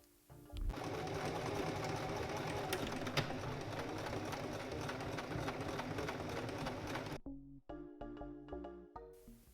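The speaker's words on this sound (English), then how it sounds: "And we can now sew them together." A sewing machine stitches a waistband onto a pair of culotte trousers. It runs as a loud, steady, close whirring drone for several seconds, then stops, and a few scattered mechanical clunks follow.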